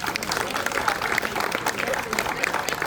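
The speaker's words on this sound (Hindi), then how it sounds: "हमारे स्पेशल सेगमेंट के लिए जोरदार तालियां हो जाएं" An audience claps hard and steadily at a residents' Independence Day performance, a dense, continuous clatter with voices mixed in.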